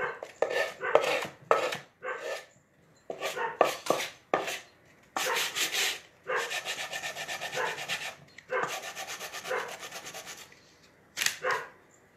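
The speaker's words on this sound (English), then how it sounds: "I'm just going around the edges and just kind of scuffing it up a little bit" Scuffing dried Vaseline around the edges of a three-tier shelf being built, with close, scratchy rubbing strokes that come in irregular bursts and longer sustained passes, separated by brief pauses, and no talk.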